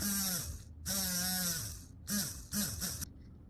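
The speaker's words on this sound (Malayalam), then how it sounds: "അപ്പോൾ നമ്മുടെ കുഞ്ഞൻ ഡ്രില്ല് മെഷീൻ റെഡി ആയിട്ടുണ്ട്" A small homemade hand drill motor whirs in short bursts, its steady high buzz rising as it spins up and sagging as it winds down, with brief silent gaps between runs. It sounds close and fairly loud.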